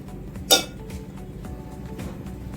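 A pan gives one short metallic clink as it is handled in a home kitchen before oil goes in for frying sliced bitter gourd (kakarakaya), then a quiet background follows.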